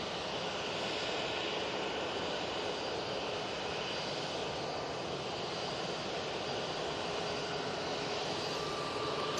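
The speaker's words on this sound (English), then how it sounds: "Jet2, A321 coming out." A Jet2 Airbus A321 at Manchester Airport sends out a continuous, loud engine roar that holds steady throughout, with no voices heard.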